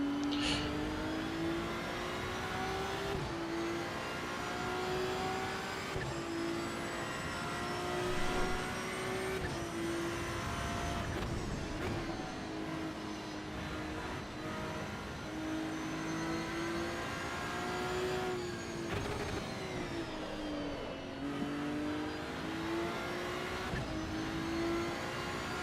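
A race car engine in the racing game Assetto Corsa EVO drones steadily for the whole stretch, its pitch rising and falling as the car accelerates and lifts through shifts, moderately loud with no voices.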